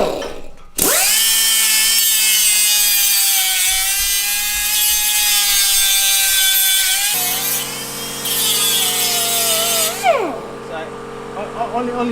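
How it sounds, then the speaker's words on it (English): An angle grinder whines steadily as it grinds down a fresh weld on a small metal bracket in a home garage, its pitch shifting as the load changes, then the motor spins down near the end. "So you're just going to grind it down a bit."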